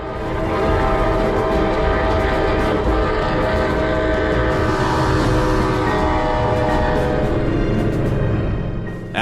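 A train bears down on a level crossing where a police car sits stopped on the tracks, its horn blaring loud and steady above a heavy rumble and rising rail noise throughout.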